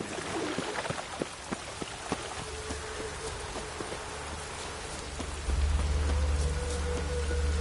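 Steady rain patters on a hard surface with scattered drops in the video game The Witcher 3: Wild Hunt, and a low rumbling hum joins partway through.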